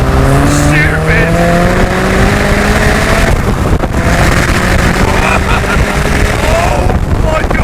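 Hybrid turbo Mazda MX-5 with 340 bhp driven hard, loud engine roar climbing in pitch through the gears amid heavy wind buffeting, with a voice speaking over it.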